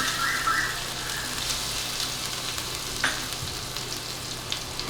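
Cumin seeds and green chilies sizzle in hot ghee, a steady close crackling hiss that holds throughout, with a few small pops and a faint scrape.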